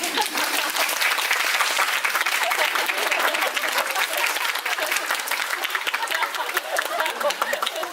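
A theater audience at a post-show talk for the musical 'Vanishing' breaks into dense, sustained applause, loud and steady throughout.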